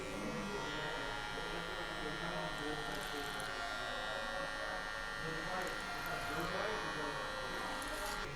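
Electric hair clippers buzz steadily through a short crop with a mid-high fade, held closed and guided by a comb; the faint, even hum runs continuously while a voice talks over it.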